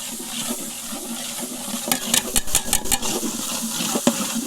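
Tap water running while raw meat is washed for a Christmas biryani in a home kitchen, a steady close splash with a burst of sharper gushing pulses midway; no voices.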